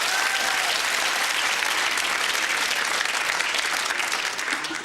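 A television quiz-show studio audience gives loud, continuous applause, with thick, energetic clapping from many people at full strength that fades slightly only at the very end.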